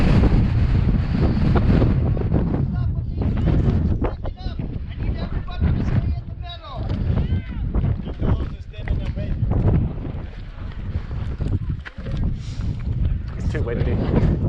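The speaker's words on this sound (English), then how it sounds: "It's too windy." Strong wind buffets the microphone at the Grand Canyon, a continuous loud low roar with gusting surges throughout, and people talk faintly beneath the rumble.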